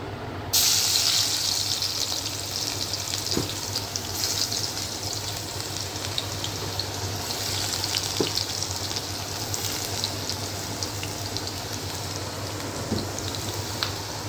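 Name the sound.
ginger garlic paste sizzling in hot oil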